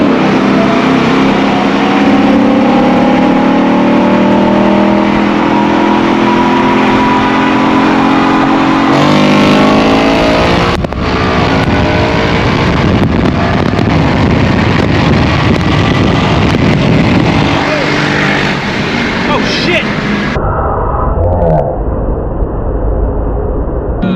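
A twin-turbo V8 car accelerating hard on a run, a loud, steady engine roar with rising pitch and heavy wind buffeting on the microphone, cutting down sharply near the end.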